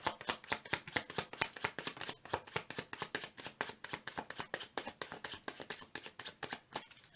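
A deck of cards is shuffled up close in quick, rhythmic riffles and flutters that repeat steadily for several seconds.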